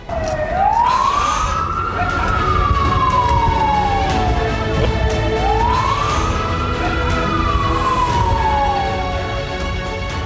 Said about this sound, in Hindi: इजराइल में वॉर सायरन बजने लगे।